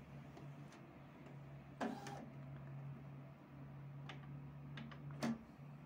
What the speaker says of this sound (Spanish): Entonces ya nuestra impresora empieza a hacer sonidos.